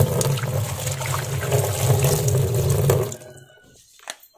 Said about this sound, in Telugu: ఇందులో ముందుగా 1/2 లీటర్ నీళ్ళు పోస్తున్నాను.